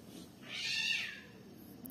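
A domestic cat gives a single clear, moderately close meow indoors against a quiet background.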